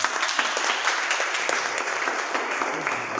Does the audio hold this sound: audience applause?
yes